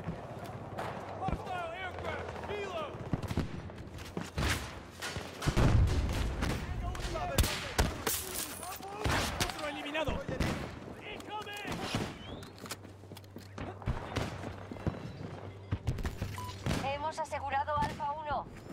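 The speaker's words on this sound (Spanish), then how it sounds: "El enemigo está disparándome." Rapid bursts of gunfire and explosions from the video game Battlefield 2042, loud and repeated throughout, mixed with game voice callouts and other battle noise.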